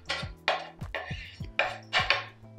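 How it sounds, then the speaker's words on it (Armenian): A spoon stirs chopped greens into a minced beef filling in a bowl, giving several sharp scraping clinks against the dish at an uneven rhythm, close-up and with no talking. "Կանաչիները ավելացնելուց հետո գթալով ենք խառնում"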